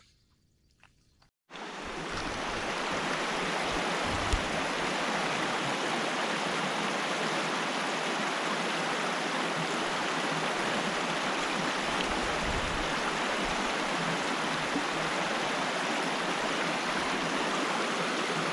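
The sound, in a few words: river flowing through forest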